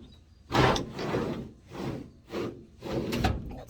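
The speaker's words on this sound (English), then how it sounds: "These drawers roll out nice and easy." Titan drawers in a Hilux slide out and back in several times, each a rolling rumble of metal runners lasting under a second, close and fairly loud with short pauses between strokes.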